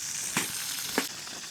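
Food fries in a pan on low heat outdoors on a frozen lake in winter, a soft continuous sizzle with two short clinks or stirs, close by.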